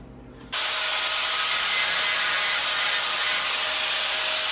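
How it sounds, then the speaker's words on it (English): Flap wheel on an angle grinder cleaning up the freshly cut end of a steel tube, starting after a brief pause into a steady, loud, broadband grinding hiss that holds evenly to the end. "Let's clean this up with the flap wheel."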